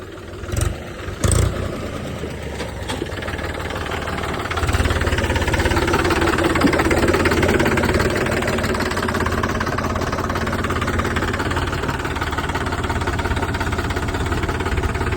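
A mini tractor engine runs steadily and close by, with a few sharp knocks near the start before settling into an even, throaty drone.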